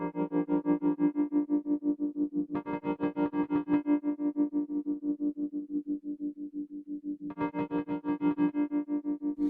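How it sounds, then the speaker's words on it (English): Tremolo from the Eventide Undulator app on an iPad pulses a sustained distorted guitar chord in a steady, fast rhythmic throb, with the chord changing partway through; no one speaks. "I'm going to turn down the delays so that all we hear right now is the tremolo."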